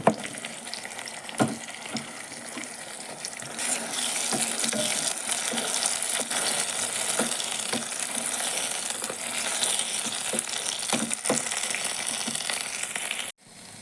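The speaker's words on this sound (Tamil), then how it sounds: "இப்போ அரைச்சி வச்சுருக்கிற இஞ்சி பூண்டு பேஸ்ட்டு சேர்த்து நல்லா வதக்கிக்கலாம்" Ginger garlic paste with curry leaves frying in a pan, a steady broadband sizzle that holds for several seconds with a few faint scrapes of stirring, then cuts off abruptly at the end.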